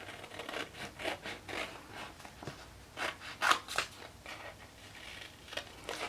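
Scissors snipping apart flat alphabet sticker sheets, a string of soft close crunchy cuts and paper rustles at an irregular pace, fairly faint, with no talking.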